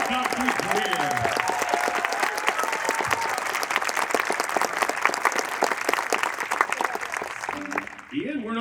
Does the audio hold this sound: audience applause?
yes